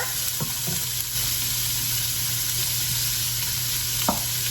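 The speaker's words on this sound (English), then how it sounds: "keep giving it a stir and let those soften" Onions stirred in oil in a pot for homemade wedding soup, sizzling steadily throughout with a few sharp scraping knocks of the spoon against the pot.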